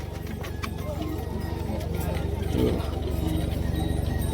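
Hooves clip-clop steadily on a mountain trail to Kedarnath, several horses walking at an even pace under a constant low rumble and background murmur.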